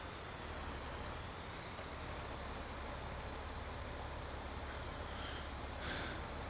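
Peterbilt truck idling with a low steady engine rumble, faint and somewhat distant, ending in a short sharp hiss of air brakes release.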